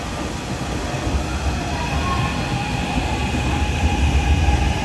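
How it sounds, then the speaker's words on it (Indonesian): KRL commuter train at Citayam station on the Bogor line, a steady loud rumble of wheels and carriages with a continuous high whine running throughout, close by and without talk. "Ini suasana stasiun Citayam."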